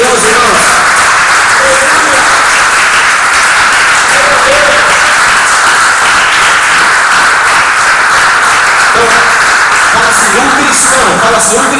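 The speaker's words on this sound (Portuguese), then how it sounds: "Vamos aplaudir esse Deus Todo-Poderoso, irmãos." A church congregation applauding, as a dense, loud, sustained wash of clapping that fills the whole stretch, with voices faintly audible beneath.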